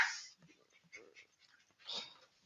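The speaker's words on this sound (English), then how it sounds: "While my dog, my little Pomsky here, barks in the background." Small Pomsky dog heard close by indoors, making a short bark at the start, soft whimpering breaths in between and another yelp near the end, with a person talking over it.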